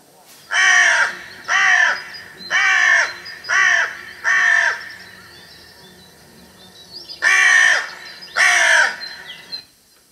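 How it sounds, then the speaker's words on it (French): Carrion crow cawing, a series of five harsh caws in steady rhythm followed after a pause by two more, loud and close with no other sound around them. "La corneille noire."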